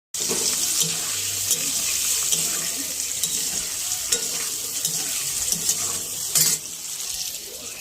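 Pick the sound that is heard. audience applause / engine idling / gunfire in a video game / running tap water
running tap water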